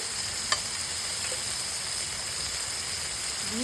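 Spices, tomato, salt, turmeric and a little sugar frying in oil for an egg curry, a continuous close hiss and sizzle with one sharp clink of a spoon against the pan.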